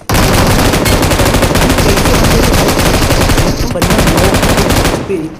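Sustained automatic gunfire crackles in BGMI (Battlegrounds Mobile India), loud rapid bursts running almost without pause, breaking briefly near the end before resuming.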